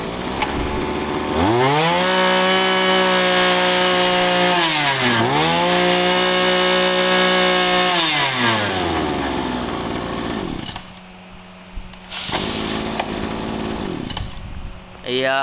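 A small gasoline water pump engine is pulled to start, then runs and revs up and down in a few surges before idling down, with brief talk near the end.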